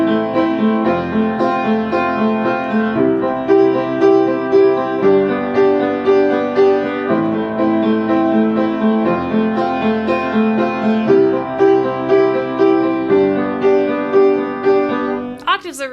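Piano chord comping from an intermediate-level lesson, with full octaves doubled in the left hand for a fuller bass; sustained harmonic chords repeat in a steady pulse, loud and close, with no talking.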